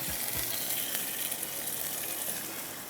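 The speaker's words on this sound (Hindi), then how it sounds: "अब ये कोफ्ते जो फ्राई करके रखे हुए हैं ये वापस इसी के अंदर जाएंगे" Fried koftas go back into a pan of simmering makhni gravy with a steady, dense sizzle and bubbling that holds loud and continuous from start to finish, with no talking.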